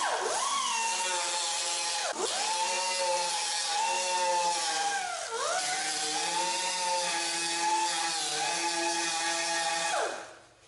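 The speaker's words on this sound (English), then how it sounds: "we just got to clean down the burrs here from where I drilled through" A high-pitched power tool whines steadily while deburring drilled holes in a car door skin, its pitch dipping briefly under load several times before it winds down at the end.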